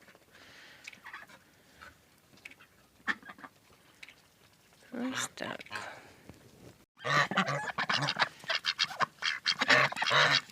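Poultry honking and cackling nearby, starting sparse and becoming a loud, busy chorus of overlapping calls, with a short spoken phrase.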